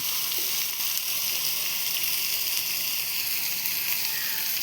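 Chopped egg-puff filling sautés in a pan with a steady, loud broadband sizzle that holds evenly throughout, with no talking.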